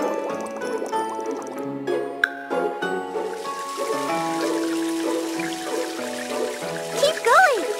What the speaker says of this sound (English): Now you'll need to wash off all those bubbles with water.